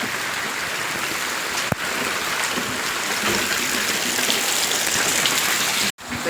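Heavy rain pouring steadily on surfaces outdoors near a livestock shed, a dense continuous hiss with a sharp knock partway through and a brief dropout near the end.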